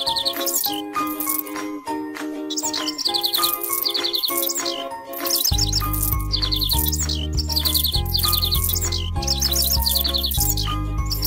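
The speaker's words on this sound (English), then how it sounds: "Let the birds sing." Cheerful electronic bird chirps and tweets from a pony care kids video game repeat in quick bursts over a bouncy tinkling music track, with a deeper bass line joining halfway.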